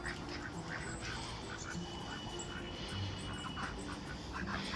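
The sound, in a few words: ducks quacking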